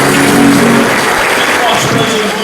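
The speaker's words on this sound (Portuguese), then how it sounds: "Aplaudir Jesus bem forte." A church congregation claps loudly and steadily throughout, dense continuous applause with voices mixed in and a faint tonal sound underneath.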